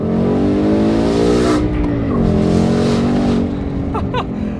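A Ford Mustang American muscle car engine revving loudly and close, a continuous deep throaty roar that dips and climbs in pitch throughout, alone without talk.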